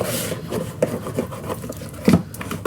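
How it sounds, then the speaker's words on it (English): Paper corners of a handmade craft storage box are burnished, short close rubbing and scraping strokes in an uneven rhythm, with one firmer rub near the end. "now we can burnish the corners."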